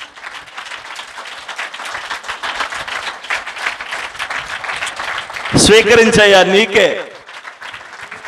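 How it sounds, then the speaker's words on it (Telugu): A church congregation claps steadily through a fasting service, a dense rain of hand claps running the whole time beneath a pastor's speech, which rises louder near the end. "చప్పట్లు కొట్టండి ఒకసారి."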